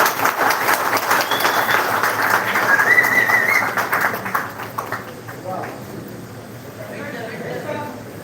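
Audience applause at a film music and trailer launch event in Tamil Nadu, steady broadband clapping filling the first few seconds, then thinning and fading to scattered claps with faint voices underneath.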